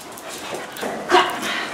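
A white puppy whimpering and panting up close, soft breathy pants rising into a brief higher whine near the end.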